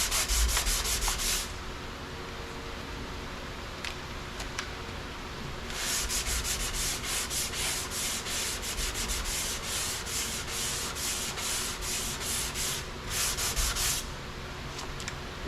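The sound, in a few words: sanding Bondo filler with 180 grit sandpaper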